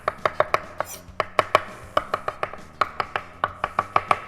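A knife chops an ingredient thinly on a board in quick, rhythmic bursts of sharp taps, close and clear with no talking.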